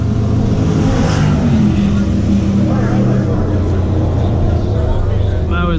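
A 2018 Mustang GT and a Challenger SRT 392 at a dig race, loud engines roaring and revving close by in a continuous heavy rumble with no break.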